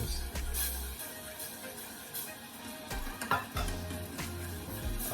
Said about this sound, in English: Just mix around your honey and your ketchup together.